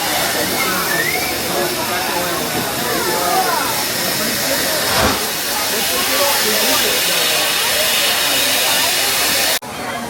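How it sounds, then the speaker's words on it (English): Steam locomotive on the Georgetown Loop railroad releasing a loud, steady hiss of steam that fills the whole stretch, with a brief sharp burst partway through, close by and continuous. "Here comes the steam locomotive to go to the front."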